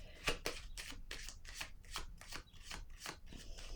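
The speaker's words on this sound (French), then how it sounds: "Là, je vais déposer une carte" Tarot cards riffle and slap down in a quick, steady run of about a dozen crisp, close papery strokes, no voices over them.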